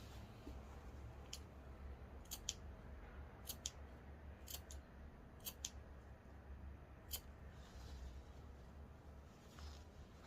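Scissors snip fabric for a baby bodysuit, cutting along the bias and notching seams. Short, crisp snips come in quick pairs and singles across a quiet room, close to the listener. No one speaks.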